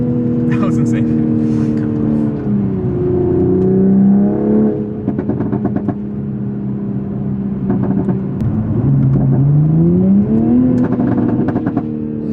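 A 500 HP Toyota Supra accelerates hard, its engine note climbing and then dropping sharply at abrupt, aggressive gear shifts, loud and close from inside the car, with people talking over it.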